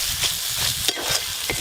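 Ground chili, turmeric, cumin and coriander fry in a pan with onion, ginger and garlic for a chicken kosha, giving a steady close sizzle broken by a few soft scraping stirs.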